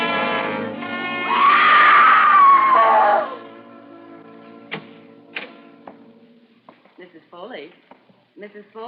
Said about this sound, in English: she went screaming out the front door and towards the street